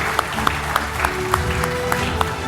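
Audience applause at a national SME awards ceremony as a family member accepts an award, dense crowd clapping with a few sharper individual claps standing out over a busy, steady background.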